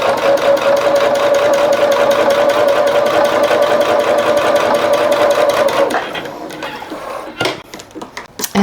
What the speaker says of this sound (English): we're going to sew that